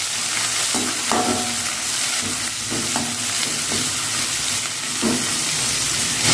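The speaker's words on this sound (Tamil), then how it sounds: "வெங்காயத்தை சேர்த்துட்டு நல்லா கிண்டி விட்டுக்கலாம்." Chopped onions sizzle steadily in a hot pan while being stirred, with a continuous frying hiss and intermittent scraping knocks from the spoon, close and alone.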